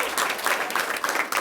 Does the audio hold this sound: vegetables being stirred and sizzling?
no